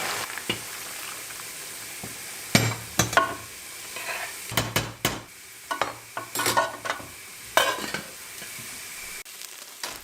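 Rice sautéing in a pan for a Turkish dinner, bursts of sizzling and frying as it is stirred, several scraping strokes in irregular rhythm over a quiet background, close and clear.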